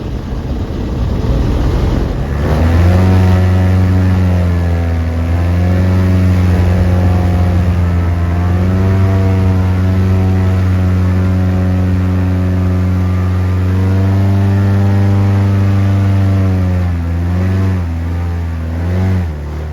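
A loud, steady engine drones with a strong low hum, rising and falling in pitch a few times as it revs, with no voices.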